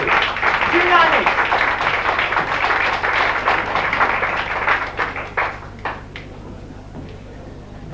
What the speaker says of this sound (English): Sebastian, a lovely round of applause, Sebastian.